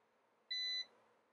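A single loud continuity beep from a Kaiweets smart multimeter, steady and high-pitched, lasting about a third of a second against a faint background hiss.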